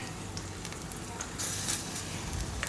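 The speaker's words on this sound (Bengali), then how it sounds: "লাল লাল করে ভেজে নেব বড়াগুলো সব" Lentil fritters (bora) fry in hot oil with a dense, continuous crackling sizzle, close up, rising briefly into a sharper hiss partway through.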